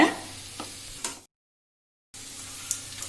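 A chicken burger patty frying on a low flame gives a soft, steady sizzle with a few light ticks, then drops out completely for about a second before the gentle frying resumes.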